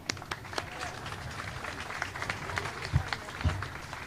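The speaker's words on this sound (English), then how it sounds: "everybody could give Wood a round of applause" Scattered applause from a small outdoor crowd at a Broadway Street ribbon cutting, light and uneven clapping with a few sharper claps, fairly faint and mixed with background murmur.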